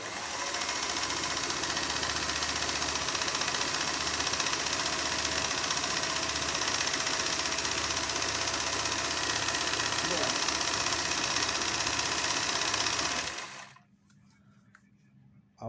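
Singer 401A sewing machine running continuously at steady speed while stitching a straight seam, a dense close mechanical whir and clatter that cuts off near the end, with no talk over it.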